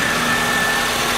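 A Honda VTEC car engine idles after a cam chain replacement, giving a steady, continuous close hum with a constant tone and no talking.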